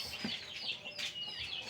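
Rhode Island chickens clucking around an egg-incubation setup, a few soft, close clucks and chirps in quick succession over a low background.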